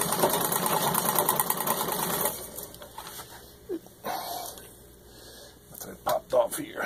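An antique 1920 Singer 66 Red Eye treadle sewing machine stitching at full speed, a rapid, even mechanical chatter close by for about two seconds, then stopping, followed by scattered knocks and a person talking.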